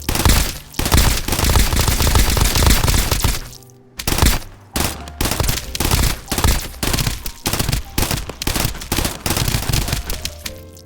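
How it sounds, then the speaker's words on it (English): An acid elemental gun in Escape from Duckov fires in rapid bursts, loud crackling volleys broken by a brief pause, then sharper clusters of shots resuming. "Very dangerous gun. It looks like it spews acid or something crazy like that."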